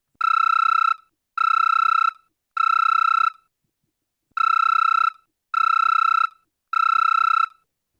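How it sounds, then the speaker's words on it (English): A telephone rings in six harmonic bursts, three close together, a short pause, then three more, each about a second long, clear and steady with nothing else around them. "Pip, your phone starts going on."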